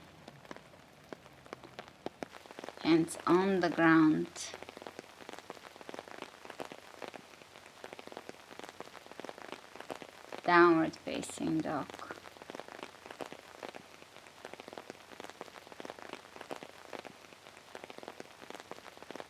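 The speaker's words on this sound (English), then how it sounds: "Might as well be just in the rain." Steady rain patters on the ground throughout, with a person speaking briefly twice over the soft, continuous hiss of falling drops.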